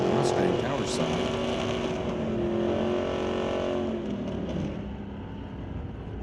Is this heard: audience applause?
no